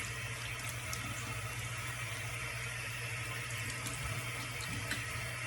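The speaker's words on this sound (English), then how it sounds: "I do a warm water and then a cold water rinse." A bathroom tap runs in a steady, quiet stream for a face rinse after a straight-razor shave, with continuous soft splashing and no talking.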